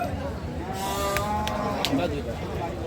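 Cattle at a busy livestock market in Alamdanga, Chuadanga, let out a loud, drawn-out moo amid constant crowd chatter and nearby talk.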